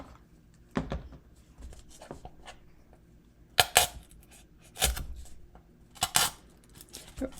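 Scissors cut cardboard for the base of a Halloween cardboard house, a few separate crisp snips and crunches spaced a second or so apart, fairly close and quiet.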